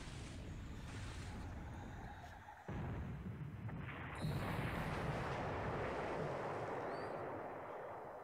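Torpedo hits and explosions from a turn-based WWII Pacific naval war game, set in April 1942 with Japan as one side, come as dense rumbling blasts that shift abruptly in tone twice and then fade slowly.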